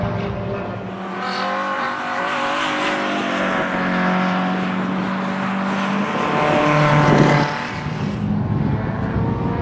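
Race car engine running on the Lurcy-Lévis track, a loud sustained tone that rises and shifts pitch as the car accelerates and passes, with no talk over it.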